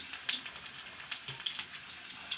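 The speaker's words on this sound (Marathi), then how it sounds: "कांदाही परतत आला आहे यामध्येच टोमॅटो टाकून घेऊ" Chopped onions fry in a pan with tomatoes added while making chapati kutake, a faint steady sizzle with a few soft stirring scrapes.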